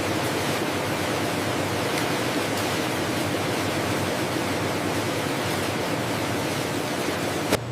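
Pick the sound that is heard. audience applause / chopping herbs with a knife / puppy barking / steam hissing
steam hissing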